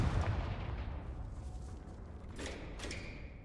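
Confringo spell blast in the Hogwarts Legacy video game, a deep booming thump that fades into a rumbling tail, with a couple of sharper crackling hits later, fairly quiet overall.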